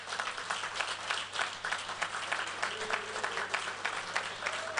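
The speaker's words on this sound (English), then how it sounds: "let's clap for that" A crowd at a Rotary district conference at Speke Resort Munyonyo applauds, with sustained, dense clapping from many people, rising and falling slightly in intensity, at moderate volume with a low steady hum underneath.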